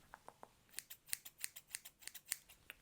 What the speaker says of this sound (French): Maintenant on va passer au ciseau tout simplement pour te désépaissir les cheveux